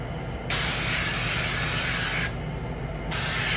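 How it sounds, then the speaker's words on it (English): Avocado oil spray hisses steadily from an aerosol can while greasing an 8-inch pie pan, one long burst of about two seconds, a brief pause, then a shorter second burst, close and fairly loud. "I'm going to grease that with some avocado oil spray."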